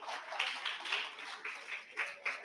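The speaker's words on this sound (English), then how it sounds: "A warm round of applause" Applause from the audience at a university convocation of scholars in Cebu City, a moderate round of clapping heard from some distance, swelling in several soft pulses.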